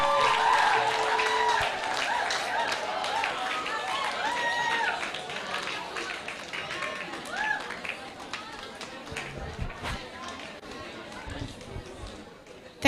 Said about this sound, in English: Please put your hands together for Barrister Kemi Oyetayo as she comes for the book.